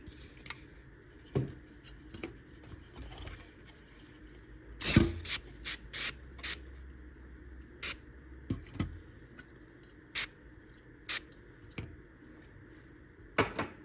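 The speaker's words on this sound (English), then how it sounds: "I'm gonna just give it a quick spray with some Sprayway glass cleaner" A few short hissing sprays of Sprayway aerosol glass cleaner burst out, with a cluster in the middle and scattered clicks and taps around them, close by in a quiet room.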